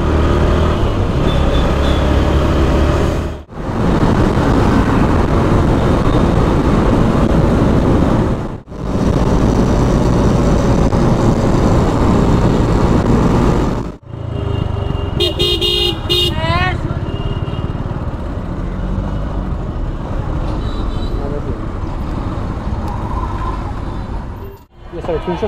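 Car engine and road noise during a ride-hailing trip through city traffic, a loud continuous rumble from inside the vehicle that is broken by a few brief dropouts, with a horn toot partway through.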